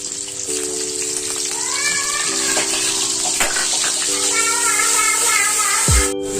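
Sliced onions and chopped green chilies frying in a pan for egg noodles, giving a steady, loud sizzling hiss that runs throughout with a faint tonal hum beneath it.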